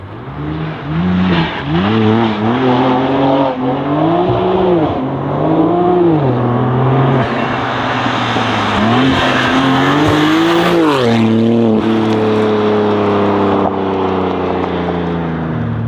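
BMW G87 M2 engine revving hard in repeated rising and falling sweeps, loud and close, with a blow-off valve hiss near the end and no voices.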